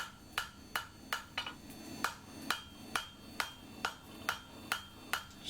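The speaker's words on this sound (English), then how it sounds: "Now you can see me angling the hammer," Hammer blows on a small steel axe head forged from a ball-peen hammer ring out one after another, about a dozen sharp strikes at an uneven pace, close and clear with no talking.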